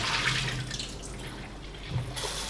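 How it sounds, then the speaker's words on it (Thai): Soaked dried fish is rinsed under running tap water, with splashing and trickling water continuous at moderate level, punctuated by a couple of heavier sloshes. "แล้วก็ล้างน้ำสะอาดอีกรอบนึงนะครับ"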